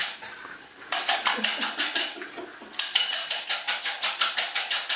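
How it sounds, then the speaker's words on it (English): Eggs whisked vigorously in a bowl for an omelette give off fast, rhythmic metallic clinking and tapping, close and loud, in two steady bursts separated by a short quiet pause, with no talking. "Nice and vigorous. Vigorous whisking."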